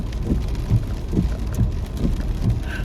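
Steady rain falls on a gloomy day, a constant close patter with soft rhythmic thumps and no voices.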